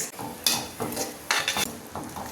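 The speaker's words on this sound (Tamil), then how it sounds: "கறி வேகிறது." A mutton curry cooks in a pot with a little water, with a spoon stirring and scraping in uneven bursts over a soft sizzle, close and moderately loud.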